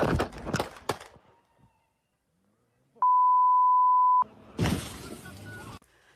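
A steady censorship bleep tone, loud and flat for just over a second, covering a swear word in news footage of a police shooting, set between bursts of noisy, chaotic sound.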